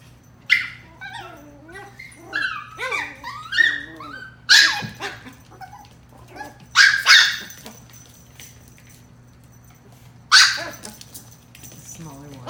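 Chihuahua puppies, one small and one larger, bark and yip in sharp bursts while playing indoors, with whimpers between the barks and a steady low hum behind them.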